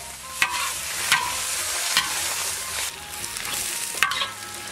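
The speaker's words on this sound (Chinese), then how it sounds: "锅里倒上油，锅里油烧热，把皮肠下进去。" Pig intestine frying in hot oil in a wok, a steady loud sizzle broken by a few sharp crackling bursts as it is stirred, close up with no talking.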